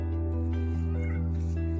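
Close, loud, drawn-out meowing from a discontented cat in a Belarusian village in autumn, a wavering tonal cry that keeps going, with no speech.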